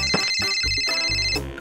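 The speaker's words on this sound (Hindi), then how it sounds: "उसका फोन बजा।" A mobile phone ringtone plays a bright electronic melody of quick repeated notes, close and loud, lasting under two seconds.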